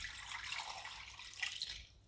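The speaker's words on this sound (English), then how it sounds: "And we're gonna add water." Water pours into a pot over chicken for an onion stew, a faint, steady splashing pour lasting about two seconds.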